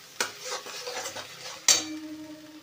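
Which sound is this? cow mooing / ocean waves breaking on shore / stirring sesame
stirring sesame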